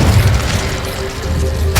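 Incendio fire spell cast in Hogwarts Legacy, heard as a loud low whooshing boom of flame that fills the moment with a rumbling burst and fades quickly.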